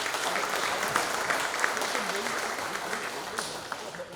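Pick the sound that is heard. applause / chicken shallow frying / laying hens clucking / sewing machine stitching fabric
applause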